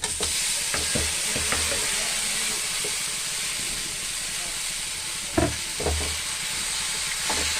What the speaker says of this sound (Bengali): এবার আমি কচু শাকটা দিয়ে দিচ্ছি